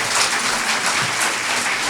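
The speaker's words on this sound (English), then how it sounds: "Let's give them a round of applause" Applause from the audience at an Oklahoma state senate district debate, a dense, steady wash of clapping that stays even and fairly loud from start to finish.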